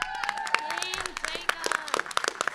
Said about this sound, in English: you deserve a round of applause as well.